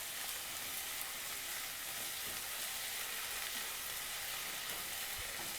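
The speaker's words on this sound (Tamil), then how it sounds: "இப்போ இந்த வெங்காயம் தக்காளி எல்லாமே நல்லா ஸ்மாஷ் ஆகிற அளவுக்கு குக் ஆகணும்." Onions and tomatoes fry in a pan for a Chettinad mushroom gravy, giving a steady, close, even sizzle that hisses throughout with no pauses and no voices.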